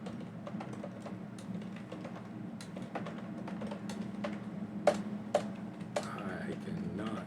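Rapid, irregular clicks of fingers typing on a computer keyboard while coding, a steady patter with a few sharper keystrokes toward the end over a low background hum.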